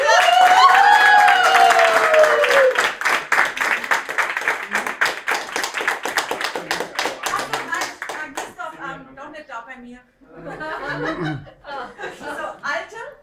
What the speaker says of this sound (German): offizieller Handschlag, offizielles Zertifikat und individueller Applaus